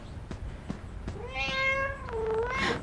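A robot cat toy in the Five Nights at Freddy's game gives a few soft taps, then two drawn-out, rising and falling meows, close and clear with no talking.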